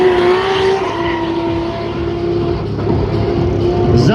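Drag race cars with BMW engines at a Slovakia Ring car drag event roar loudly as they accelerate, a sustained close engine drone with rising and shifting pitch throughout.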